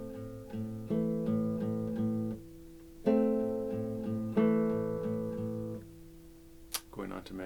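A melody from the Tetris theme played on acoustic guitar as plucked, sustained notes in short rhythmic phrases, with the thumb picking the fifth string. It is played close up and fairly quietly, and ends with a few scrapes and handling noises.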